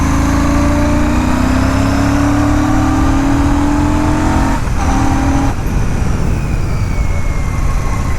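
A loud Royal Enfield Classic 650 parallel-twin engine hums with a whistling tone that rises steadily, then drops through two quick gear changes before continuing to pull.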